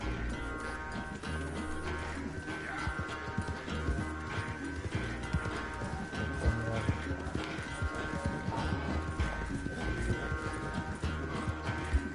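Game horse galloping in Red Dead Redemption 2, steady clip-clop hoofbeats running continuously and fairly loud under a dense layer of in-game music and ambience, with a brief whinny possible.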